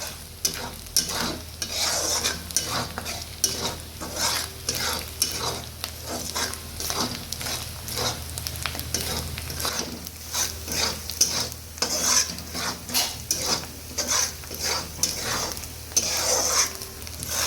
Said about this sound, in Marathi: चवीपुरते मीठ घालावे व दोन ते तीन मिनिट मंद गॅसवर छान असे परतून घ्यायचे आहे